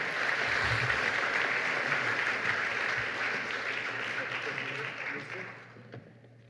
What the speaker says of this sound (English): So I think we should also have a round of applause for the sponsors.